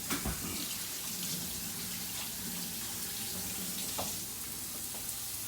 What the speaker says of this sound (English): I'm gonna wash my hands because they're gross because they've been in that raw meat.